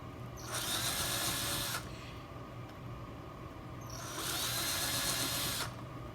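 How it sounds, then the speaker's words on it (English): A screw gun whirs in two short bursts pre-drilling screw holes, each lasting over a second with a quiet pause between, close by and fairly quiet overall. "And I need to pre-drill those screws"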